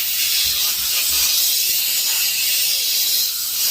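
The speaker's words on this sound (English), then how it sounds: "Take our air compressor and blow it on the spine side." Compressed air from an air compressor blasts steadily onto the spine of a knife blade held between blocks, a continuous loud broadband hiss lasting the whole stretch with no voices.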